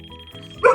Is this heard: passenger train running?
no